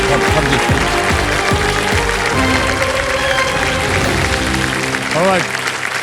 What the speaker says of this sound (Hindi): एक बार फिर जोरदार तालियां बज जाएं सोनिया जी के लिए और उनकी माता जी के लिए